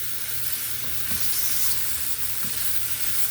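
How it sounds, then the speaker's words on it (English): Oxtails searing in a hot pan give a steady, loud sizzle throughout, with a couple of soft scrapes as the pieces are turned onto their sides. "Turn them on their side, sear them on that side."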